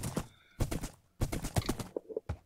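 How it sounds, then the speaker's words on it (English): Horse hooves from the video game Minecraft, a few quick bursts of clip-clopping steps separated by short pauses, with a brief whinny-like tone near the end, fairly close and faint. "I tamed me the horse and I got me a saddle"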